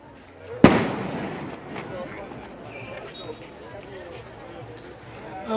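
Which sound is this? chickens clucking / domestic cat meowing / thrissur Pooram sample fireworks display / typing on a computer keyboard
thrissur Pooram sample fireworks display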